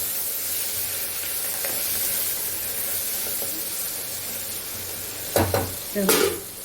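Curry leaves hitting hot oil in a tempering for drumstick and tomato rasam give off a continuous close sizzle and hiss, broken near the end by two sharp, louder crackling bursts.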